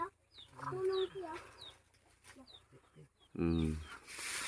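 A chicken clucks in short bursts with sharp higher calls scattered through, close by, while people talk over and between the sounds, ending in a louder voice.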